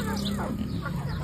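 Chickens in a village yard gather for scattered wheat, clucking softly and repeatedly over a steady background hum, with no voices.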